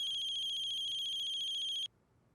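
Telephone ringtone with a bright, pulsing electronic trill that rings steadily for nearly two seconds and then cuts off abruptly, followed by quiet room tone.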